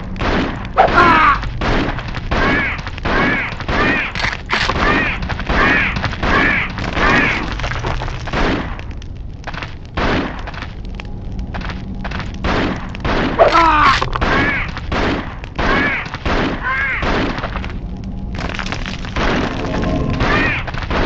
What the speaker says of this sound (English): try and defeat these scout camp members with the pistol